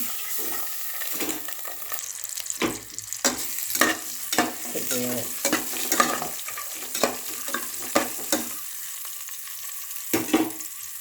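Eggs fry in oil in a pan for an egg biryani, giving a continuous sizzle, with a spatula scraping and tapping the pan in repeated strokes, close and with no speech.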